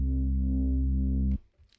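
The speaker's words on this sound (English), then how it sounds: "a nice analog and distorted bass sound" A vintage analog distorted synth bass, the Analog Lab preset Chastity, holds one thick buzzing note loud and close for over a second, then cuts off abruptly into near silence.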